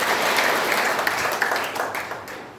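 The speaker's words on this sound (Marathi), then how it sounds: "त्यांच्या टाळ्या स्वागत करा" An audience applauds in a large hall during a community reservation-dialogue gathering, welcoming a speaker with sustained, dense clapping that fades toward the end.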